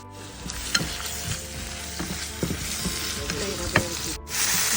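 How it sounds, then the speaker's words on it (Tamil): Tomato, coconut and cashews sauté in a hot pan for a chicken masala paste, a continuous close sizzle broken by several sharp clinks and scrapes of a spatula. "ஒரு தக்காளி, ஒரு கைப்பிடி அளவுக்கு தேங்காய், ஒரு கைப்பிடி அளவுக்கு முந்திரி போட்டு இதை நம்ம கொஞ்சம் வதக்கி அரைச்சி வச்சுக்கலாம்"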